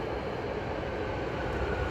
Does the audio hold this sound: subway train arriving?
yes